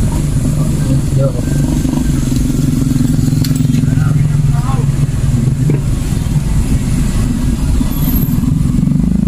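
Motorcycles crawl through traffic on a flooded street in Dipolog City, their engines forming a loud, continuous close-range drone and rev, with voices faintly underneath.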